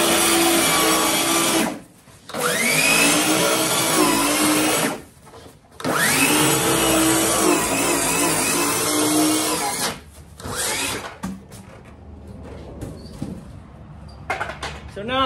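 A power saw trims a vintage camper panel, loud and continuous with two short pauses near the start before the cutting trails off into scattered lighter sounds.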